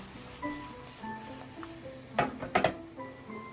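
Chopped tomatoes and cashews, with green chilli and salt, sauté softly in a pan while making palak paneer, a faint steady sizzle broken by a couple of sharp utensil clinks and stirring scrapes near the end.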